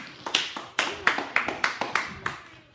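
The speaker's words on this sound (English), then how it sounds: "So let's get Phil a round of applause." A small audience at a product demonstration claps in a sparse, uneven rhythm: roughly ten distinct, fairly close hand claps over a few seconds, with a faint voice murmuring underneath.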